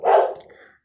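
A single short dog bark heard close and loud, with a brief fading tail and no talk over it.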